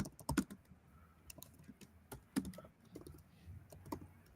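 Quick keystrokes on a computer keyboard while someone chats during a live stream, coming as irregular clicky taps and short bursts, close and moderately soft, with no one speaking.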